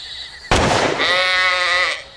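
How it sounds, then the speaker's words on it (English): A sheep bleats once, loud and close, a wavering drawn-out cry that follows a sharp burst like a gunshot. "That was a sheep. You killed the damn sheep."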